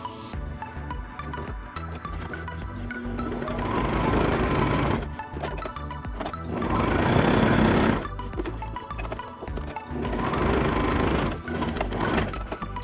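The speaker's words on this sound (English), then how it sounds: "we're sewing the last 2 parts now" Sewing machine running steadily as it stitches the final parts of a homemade cloth face mask, a continuous near mechanical whir in three longer bursts with brief pauses between, no talk.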